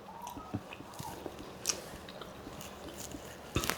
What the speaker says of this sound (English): I don't really eat many wings, but for you guys, I'm going to try this.